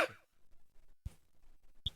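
Two short, sharp coughs, faint and spaced about a second apart, follow a brief breathy sound in a quiet indoor room.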